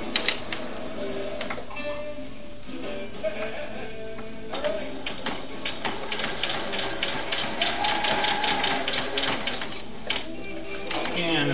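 A sewing machine stitches a doll dress on a serger, running in a steady mechanical whir with rhythmic needle ticking throughout, fairly close and continuous, with some background noise.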